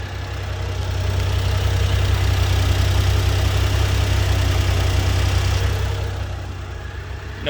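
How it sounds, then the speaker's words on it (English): 1995 Honda Acty 4x4 engine idling with the air conditioning running, a steady low rumbling drone close by with a constant rhythm, swelling slightly in the middle and easing near the end. "Okay, and that's with the AC on. So let me demonstrate. Maybe you can hear the RPMs."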